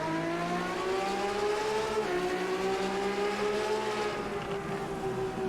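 A Ginetta race car engine in Automobilista 2 revs steadily with a high, buzzing whine that dips and climbs slightly, loud and continuous, with no voices.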